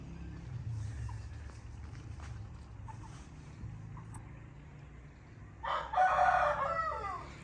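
A young rooster in a Pakistani village crows for the first time, giving one short, strained, rough-voiced crow near the end after quieter outdoor background sounds.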